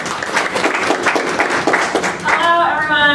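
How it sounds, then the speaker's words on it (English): An audience at a tech co-working day applauds to welcome a Firebase engineer: full, steady clapping fills the room for a couple of seconds, then a voice starts speaking as it fades. "So please give a round of applause."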